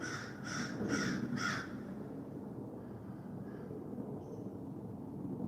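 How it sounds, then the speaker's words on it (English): A crow caws four times in quick succession, fairly close and clear, followed by a couple of fainter distant calls over a quiet outdoor background. "There's a crow."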